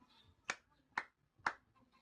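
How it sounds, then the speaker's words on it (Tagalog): A class gives three claps, three sharp, evenly spaced hand claps about half a second apart, close and crisp against a quiet room. "Bigyan natin si Binibining Hamisola ng 3 palakpak."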